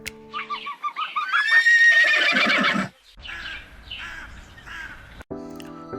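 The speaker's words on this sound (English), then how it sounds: "H for horse." A horse whinnies loudly with a long, shrill, wavering neigh, then a few softer snorts and calls follow nearby.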